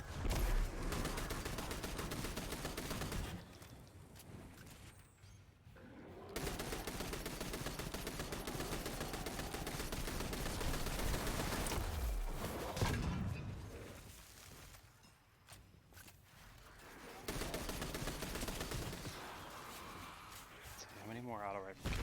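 Auto rifle gunfire in Destiny 2, long loud bursts of rapid automatic shots broken by short pauses, with impacts and crashes mixed in and a voice talking over the shooting.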